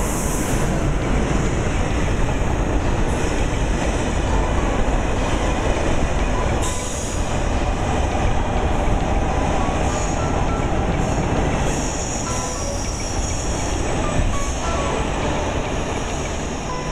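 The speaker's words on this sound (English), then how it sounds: "After the train has run straight through the city center of Berlin" The Berlin-Warsaw Express passenger train runs on rails through central Berlin, giving a loud, continuous rolling rumble with a hissing wash of wheel noise and faint metallic squeals, heard close and alone.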